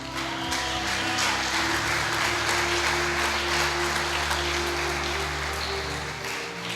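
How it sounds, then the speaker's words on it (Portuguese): Church congregation applauding during a sermon, a dense steady wash of many hands clapping that continues for about seven seconds, with a low hum of sound equipment underneath. "dá uma salva de palmas para Jesus"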